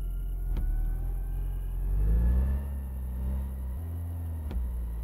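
A car in the My Garage game rumbles low as it rolls downhill with the parking brake released. The engine and road drone rises and falls steadily, and a couple of sharp clicks cut in.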